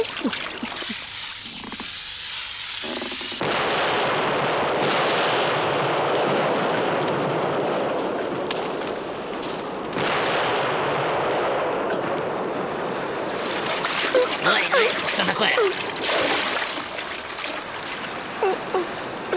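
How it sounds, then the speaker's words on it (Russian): A ship full of gunpowder explodes in an animated cartoon: a sudden loud blast gives way to a long roaring rumble and splashing water, fading into surf-like noise with scattered crackles. "Они избежали гибели при взрыве корабля"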